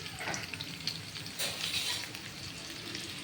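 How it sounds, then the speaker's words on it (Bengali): Panch phoron, green chillies and garlic frying in hot oil, a close, steady crackling sizzle with a few brighter spitting bursts and faint stirring, no speech. "পাঁচ ফোড়ন এই কাঁচা লঙ্কা আর এই রসুন রসুনটা একদম লাল করে ভাজা হবে"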